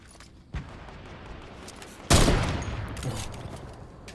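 Gunfire in the video game Fortnite, a short burst followed by a louder, longer volley that rings out and fades, heard alone at moderate distance.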